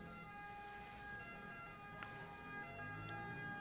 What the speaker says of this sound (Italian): c'è anche un'ambulanza che sta passando dietro di me